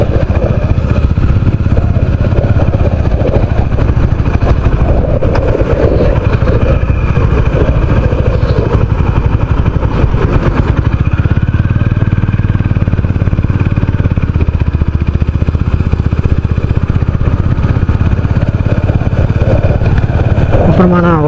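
Motorcycle riding along the beach road at RK Beach in Vizag, a constant loud engine drone with heavy wind buffeting throughout, while someone talks over it.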